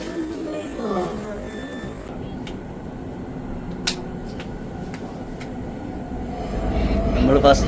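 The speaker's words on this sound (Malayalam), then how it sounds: "നമ്മൾ ഫസ്റ്റിൽ തന്നെ കയറി അണ്ടർഗ്രൗണ്ടിൽ കൂടിയാണ് കയറിയിരിക്കുന്നത്. നല്ല സ്പീഡിലാണ് പോകുന്നത്." Riyadh Metro train speeds through an underground tunnel, a steady rolling rumble with faint clicks and squeaks that builds into a louder roar toward the end.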